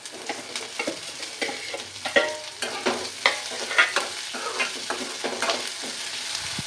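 Cut potatoes and curry leaves sautéing in oil with onions in a home kitchen, a soft steady sizzle broken by repeated scraping stirs of a spoon in the pan, close and fairly quiet.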